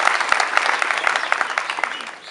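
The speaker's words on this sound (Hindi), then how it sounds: "उन खिलाड़ियों का जोरदार तालियों से स्वागत करते हैं।" An audience welcomes Olympic athletes with loud, enthusiastic clapping, many individual hand claps audible near and dense, fading slightly toward the end.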